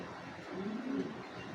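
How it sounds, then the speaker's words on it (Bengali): A racing pigeon of a special breed gives a single soft, low coo, close by against a quiet background hiss. "এই কবুতরগুলো স্পেশাল একটা ব্রিডের কবুতর"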